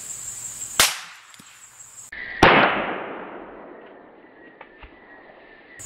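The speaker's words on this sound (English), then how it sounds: "the first gun we're going to use is the Harrington & Richardson. It's 8-shot 22" Two sharp cracks come from an 8-shot Harrington & Richardson .22 handgun fired at a baseball about 10 yards away. Each report is brief and loud, followed by a fading outdoor echo, with the shots spaced a little over a second apart.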